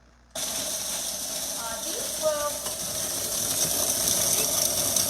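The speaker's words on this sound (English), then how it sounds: "I just brought my mini food processor because I'm doing these slowly" A mini food processor switches on abruptly and whirs steadily at close range, a high motor whine with rattling as amaretti cookies are ground, the sound growing slightly louder toward the end.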